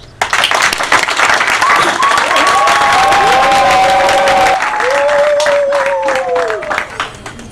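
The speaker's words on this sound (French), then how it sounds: "que nous allons saluer par des acclamations" Ceremony audience at a decoration event bursts into sustained loud applause and cheering, dense clapping with shouted acclamations and voices rising over it for several seconds before tapering off.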